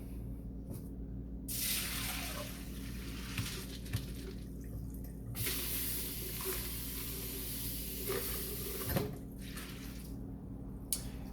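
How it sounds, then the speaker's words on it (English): Sunflower seeds being rinsed in water for growing sunflower shoots, a steady broadband splashing and spraying wash that runs throughout with brief bursts and drips, fairly close and alone. "I'm just gonna quickly go with you over the rinsing process"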